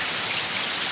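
Heavy rain pours down in a dense, constant hiss of drops hitting surfaces, loud and close, with no voices.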